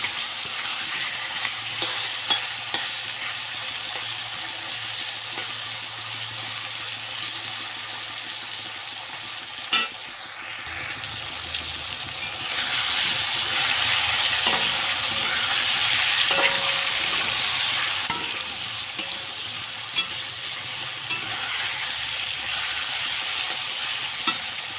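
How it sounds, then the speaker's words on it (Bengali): Vegetables for a curry fry in a pan with a loud, continuous sizzle close up. Occasional scrapes of stirring cut through, and the hiss swells for a stretch midway. "ততক্ষণ আমি ভাজতেই থাকবো।"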